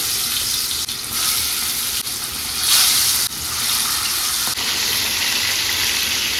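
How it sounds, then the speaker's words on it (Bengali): Fish pieces sizzle loudly in hot oil in a kadai, a dense continuous crackling hiss close by with a few brief surges and dips, no one talking. "গরম হয়ে গেছে আমি মাছ ভাজাটা বসাচ্ছি"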